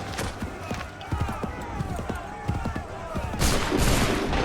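Musket volleys ring out in the American Revolution setting of Assassin's Creed III, a ragged crackle of many shots over clopping horse hooves, swelling into a denser burst of fire near the end.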